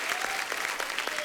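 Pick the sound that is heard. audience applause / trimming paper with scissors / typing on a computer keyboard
audience applause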